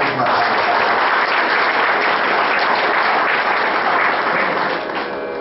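An audience claps for performers at a stage event, a dense, sustained round of applause that holds steady throughout and tapers slightly at the end, with no distinct voices above it.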